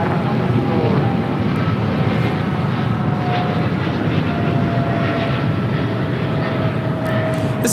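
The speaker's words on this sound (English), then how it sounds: "2811 taking off to Dallas, Fort Worth on a 777-300ER" An American Airlines Boeing 777-300ER jet takes off at LAX, a loud, sustained broadband engine roar holding steady throughout from a moderate distance, no talk.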